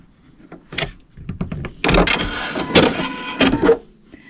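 An embroidery machine stitches out a teapot design in sand-coloured Sulky rayon thread for a romantic crazy quilt, giving close, irregular bursts of mechanical whirring and clattering with brief pauses and no talk.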